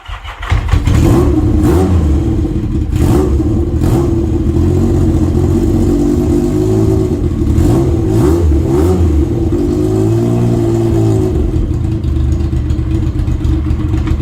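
A smoking Yamaha XS750 three-cylinder motorcycle engine runs close by after starting, a loud steady idle with a few blips of revving.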